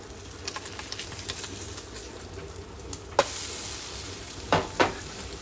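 An egg frying in a pan next to steak, mushrooms and onions, with a soft, continuous sizzle and a few sharp scraping and clattering spatula knocks near the end.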